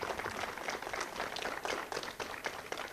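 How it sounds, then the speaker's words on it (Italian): Audience applause at a Columbus Day celebration honouring Saint Columbanus, dense continuous clapping from a sizeable crowd throughout, close and fairly loud. "Un applauso."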